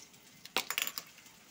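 Potato pieces drop into a pan of frying chopped onion in oil for a Bengali kacha kala kopta dish, giving a quick, close run of light clinks and taps that fades within about a second.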